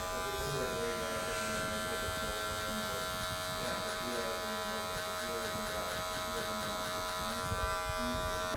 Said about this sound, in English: open my clipper all the way up, and just begin getting rid of this line